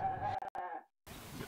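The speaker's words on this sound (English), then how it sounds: "We keep goats, cows," Goats and other livestock at a Kenyan watering hole kept by Borana herders: a clear, wavering bleat close by, then a short break and a burst of rough, broadband animal noise and movement.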